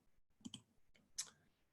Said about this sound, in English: So I'm just going to click